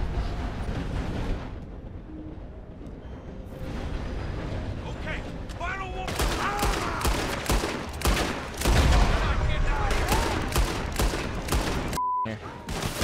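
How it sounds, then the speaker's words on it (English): Rapid volleys of gunfire crack repeatedly in Red Dead Redemption 2 as attackers shoot at a train, dense and loud over rumbling, with someone talking through it. "they're shooting at my train"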